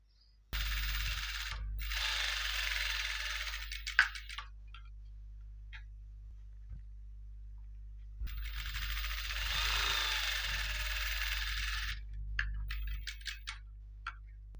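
A sewing machine stitches tucks into the back of a blouse, running in two loud, close bursts of rapid mechanical clatter with a quiet pause between them and a steady low motor hum underneath.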